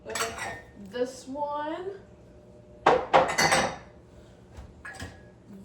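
Ceramic dishes and mugs clink and clatter as a dishwasher is unloaded at home, with a sharp cluster of knocks midway and scattered lighter clinks, while a person talks over the clatter.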